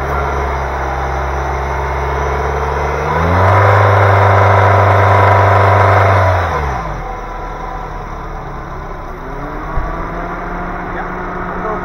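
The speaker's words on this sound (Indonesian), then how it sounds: "kita bisa mengetes dengan melakukan gas di RPM 3000 atau RPM 4000" Engine of a 2008–2010 Nissan Livina X-Gear automatic, idling steadily, then revved and held high for about three seconds before dropping back to a settled idle, close and loud, with no talking.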